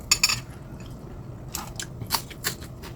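Crunchy food bitten and chewed close to the mic, a few sharp crisp crunches at the start followed by scattered softer crunching bites, with no talk.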